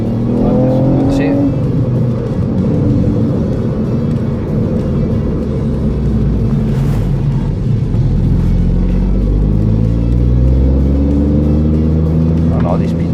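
A Ford Fiesta ST Mk8 three-cylinder engine pulls hard out of a tight corner, a loud rising and falling drone with gear changes, heard from inside the car while occupants talk over it.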